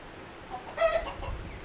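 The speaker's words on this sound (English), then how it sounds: "had to run the rooster off" A single rooster crows briefly at a distance outdoors on a Louisiana hunting trip, a short faint call rising above steady background hiss.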